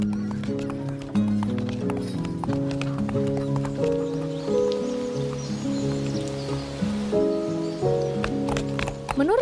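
Horse hooves clip-clop steadily in the Minecraft video game under looping background music, with a neigh in the mix. The hoofbeats are close and rhythmic, and no one speaks.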